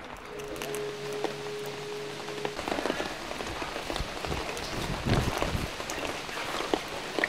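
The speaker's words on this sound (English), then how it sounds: "I've managed to find myself a relatively dry spot as it's just started raining" Steady rain pattering onto surfaces at a temple in Qingdao, a broad continuous hiss with scattered louder drips and taps, heard close with no voices over it.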